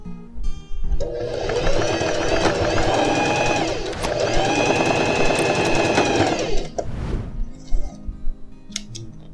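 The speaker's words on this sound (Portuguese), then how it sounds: "só passar uma costura fazendo retrocesso" A sewing machine runs a backstitched seam along the side of a pair of jeans, two long bursts of rapid stitching with a short pause between, then a brief rustle and clicks as it stops.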